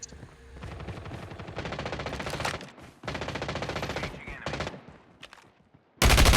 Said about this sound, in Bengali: গুলি চলতেছে কোথায়?